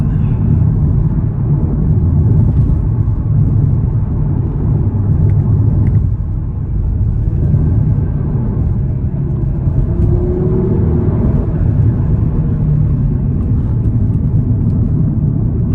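An Audi TT RS with its five-cylinder engine under way, heard as a loud, steady low rumble of engine and road noise from inside the car, sustained without a break.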